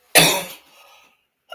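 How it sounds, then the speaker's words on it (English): One sharp, raspy throat clearing close by, a loud burst that trails off into a softer rumble, then a brief catch of breath. "I have to clear my throat for this."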